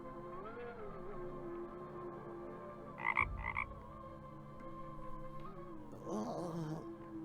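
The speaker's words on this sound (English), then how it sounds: "Croak, croak" Frog croaks in the adventure game Night of the Rabbit, low and steady over a droning musical background, with a few sharper calls breaking through midway and near the end.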